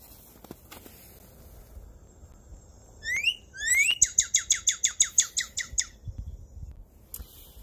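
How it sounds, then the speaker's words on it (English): A northern cardinal sings clear whistled notes: a couple of rising slurred phrases, then a rapid, even series of repeated chirps, moderately near. "Let's hear what the cardinal sounds like."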